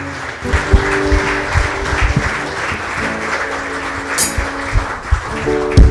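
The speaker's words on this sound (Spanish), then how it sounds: "Dale un aplauso al Señor." A church congregation claps together during a worship service, steady applause running throughout with music-like tonal sounds and thumps mixed in.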